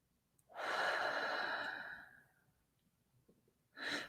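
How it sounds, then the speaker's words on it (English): Close, heavy breathing: one long audible exhale that fades out over about two seconds, a pause, then the start of another breath, with no talk. "My breathing keeps changing."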